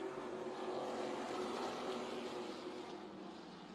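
Pro trucks racing at Colorado National Speedway under green flag, a steady loud roar of several engines that stays close and continuous throughout, easing slightly near the end.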